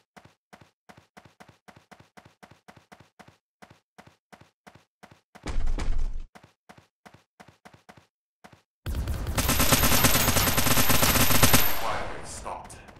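Gunfire from the video game Gene Rain: a rapid, evenly spaced stream of sharp shots, then a short burst of harsher noise and a long, loud roaring blast that fades out.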